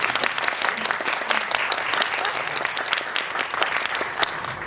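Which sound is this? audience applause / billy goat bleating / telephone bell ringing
audience applause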